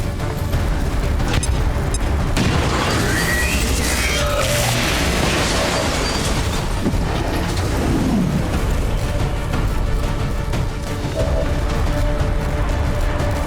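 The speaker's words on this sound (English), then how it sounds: "our Grenadier still has an action, so she can lob a grenade over the railing to finish it off" A grenade lobbed over a railing explodes in XCOM 2: War of the Chosen, a heavy booming blast amid dense, continuous game noise and rumbling debris that fills the whole stretch without a pause.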